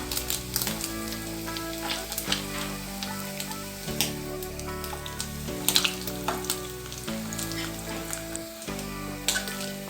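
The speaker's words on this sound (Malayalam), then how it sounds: "ചെറിയ മത്തി നമ്മൾ മുളക് പൊറ്റി വെച്ചതൊക്കെ വറുത്ത് തയ്യാറായി കഴിഞ്ഞു" Small chili-coated sardines fry in hot oil in a Kerala home kitchen, a steady crackling sizzle running throughout beneath background music.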